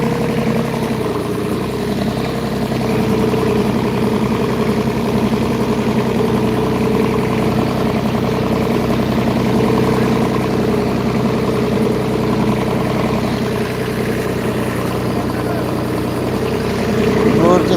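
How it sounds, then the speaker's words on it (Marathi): A tractor engine runs steadily nearby in a farm field during crop spraying, a continuous low rumbling drone that holds an even loudness throughout. "आता आपलं ट्रॅक्टर वळायचं आहे"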